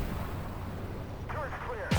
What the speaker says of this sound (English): That's my turret gun.